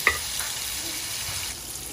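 Chayote sautéing with chorizo in a pan, a steady close sizzle with soft stirring scrapes and one sharp utensil knock at the start, no voices.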